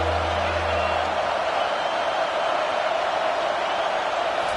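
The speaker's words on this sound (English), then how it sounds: "this crowd is tearing the lid off this place" Dense, steady roar of a football stadium crowd during a Missouri game on a third down, loud and continuous with no gaps, a low hum fading out after the first second.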